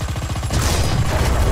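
A tank gun fires in a video game with a loud, heavy blast that rolls into a sustained rumbling boom. It follows a brief rapid pulsing burst.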